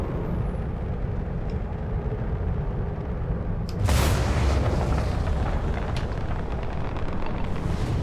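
Broad rumbling vehicle noise from driving over rough terrain in the video game Starfield, steady and loud throughout, with a sudden heavier thump and surge partway through.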